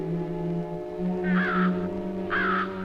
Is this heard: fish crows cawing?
yes